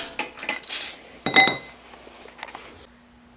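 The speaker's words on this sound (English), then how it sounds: "I'm going to be pulling this ratchet handle towards me to undo the bolt." A ratchet on a breaker bar works loose a transmission drain bolt on a Honda Civic/Acura 1.7 EL automatic, giving a few close metallic clicks and clanks in short bursts before it goes quiet.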